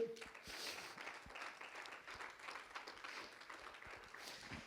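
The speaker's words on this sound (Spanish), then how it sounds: "regálale fuerte un aplauso al Señor" A church congregation applauds steadily, a dense wash of clapping that carries on throughout at moderate volume.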